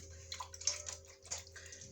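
Seeds being washed by hand in a bowl of water, giving soft, faint splashing and trickling with small drips, close and without talk.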